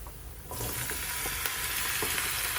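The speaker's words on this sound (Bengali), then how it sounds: "সবজিটাকে কিছুক্ষণ ভেজে নেব" Vegetables, including potatoes and pointed gourd, hit a hot pan with fried onions and burst into a loud, steady sizzle over medium-high heat that continues, with faint scraping from stirring.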